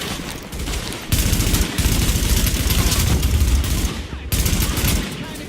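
Rapid gunfire from a video game, The Division, with dense bursts of automatic shots filling most of the clip and brief pauses between volleys.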